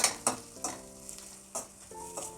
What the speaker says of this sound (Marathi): आता आपण आलं व लसूण घालतो आहे हे थोडं सॉटे केल्यानंतर